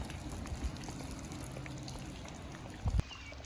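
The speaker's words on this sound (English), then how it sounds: "This river's pretty high." A high river rushes steadily in the rain, a broad wash of running water heard close by, with a few low thumps and handling knocks near the end before the sound cuts off.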